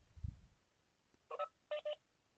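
Telephone keypad tones as digits and the hash key are entered to join a Webex call: a low thump, then three short DTMF beeps in quick succession, clear and isolated.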